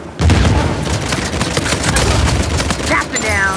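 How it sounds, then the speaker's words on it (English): Rapid gunfire rattles in an Uncharted 4 multiplayer Bounty Hunter match, dense loud bursts of automatic shots and impacts crackling continuously, with a voice briefly heard over the battle. "Should probably just follow the gunfire."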